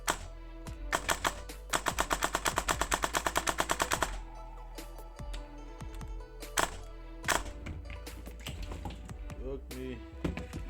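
An upgraded Krytac Kriss Vector airsoft gun fires a rapid full-auto burst of sharp, evenly spaced clicks, then a few single shots and scattered mechanical taps follow, all close and dry.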